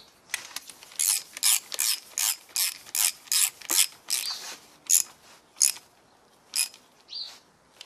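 Repeated quick ratchet clicks as a wrench tightens bolts on a Honda G23 VTEC engine build using an H22 piston, about a dozen short bursts in steady rhythm, close and clear with no talk.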